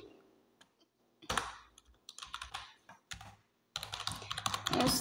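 Keys on a computer keyboard clatter while C++ code is typed into an editor, arriving in quick irregular bursts with short pauses between them, close and fairly quiet, with no voices.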